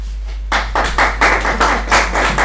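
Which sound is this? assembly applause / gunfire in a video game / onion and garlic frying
assembly applause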